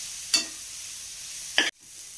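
Onions and banana flower sizzle quietly in a pan over a medium flame, with two brief stirring scrapes standing out against the soft frying hiss.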